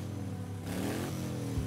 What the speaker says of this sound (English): Climbing back onto the bike, he started the engine and revved it.